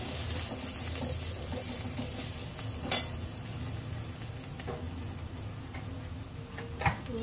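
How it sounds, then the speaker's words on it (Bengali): Ground spices such as cumin powder and Kashmiri chili sizzling and frying in a pan with a little water, a steady soft crackle with occasional faint clicks from stirring. "সামান্য জল দিয়ে মশলাটা কষিয়ে নেব"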